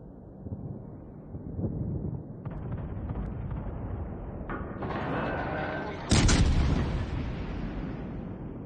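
Warship guns firing in World of Warships Legends, heard as rumbling artillery booms that build over a windy, noisy background and peak in a loud, heavy salvo near the end.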